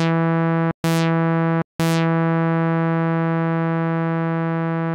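A synthesizer note with sustain set to zero and a short decay, played as a steady harmonic tone broken by two brief gaps where the note retriggers, each restart giving a bright attack that quickly fades.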